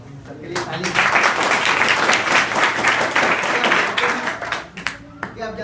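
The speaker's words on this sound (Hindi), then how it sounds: "सबके लिए ताली" A room of school students claps together in loud, sustained applause that swells and carries on for several seconds before tapering off, with a few scattered claps at the end.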